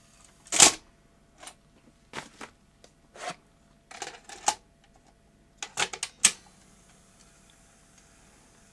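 A Sony Betamax SL-O320 VCR powers up and takes in a tape, a run of sharp mechanical clicks and clunks spaced irregularly with quiet gaps between them, close by and moderately loud, with no one talking.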